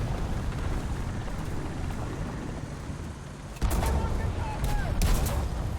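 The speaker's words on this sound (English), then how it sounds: "now someone's shooting at me from behind" Tank cannon fire in the War Thunder video game, a sudden loud burst of shots partway through over a steady rumble of engine and battle noise, followed by further scattered blasts.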